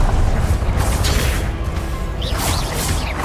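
Confringo blasting spells going off in Hogwarts Legacy, loud whooshing bursts and booming impacts in quick succession, with bright zipping spell effects trailing near the end.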